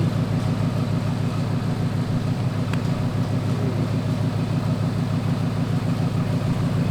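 A supercharged 2024 Ford Mustang GT V8 with a Stage 1 Whipple supercharger running close by, a steady throbbing engine drone that holds at an even pitch for the whole stretch, loud with no clear rise in revs.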